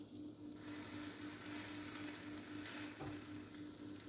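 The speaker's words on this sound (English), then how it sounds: "Grab the sandwich, place it outside down. Move it around in the butter so it soaks up that good shit." A sandwich sizzles steadily in browning butter in a pan, a constant close frying hiss with a slight shuffle as it is moved around, no voices.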